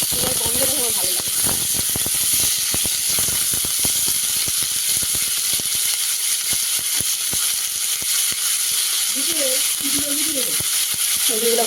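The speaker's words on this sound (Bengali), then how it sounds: "আর সবজি ভাজা এখনো চলছে।" Vegetables including capsicum frying in a pan for pasta, a loud, continuous hissing sizzle with crackles, while someone talks over it at the start and end.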